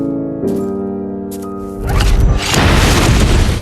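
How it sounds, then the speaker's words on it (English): A villa is destroyed by an explosion, a loud, deep boom that bursts in and rolls on as a sustained rumbling crash over a low steady tone, with no one talking. "As the explosion echoed behind him, Tommy didn't look back"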